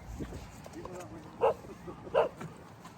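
A dog gives two short, clear barks about a second apart, close by, over light background chatter and ambient noise.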